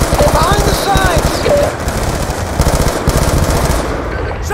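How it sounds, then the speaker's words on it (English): Rapid machine-gun bursts and scattered gunshots from a Call of Duty Black Ops 2 campaign firefight under sniper fire on an overpass, loud and continuous with shouted voices mixed in. "We're taking fire from high!"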